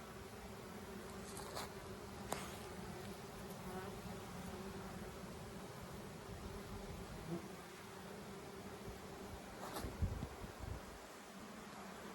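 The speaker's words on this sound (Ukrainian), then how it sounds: "Льот спокійний, але видно, що бджолка е, йде тяжка" Bees fly around a hive beside a sunflower field, a steady soft buzzing drone with a few closer insects passing by, faint and continuous with no talking.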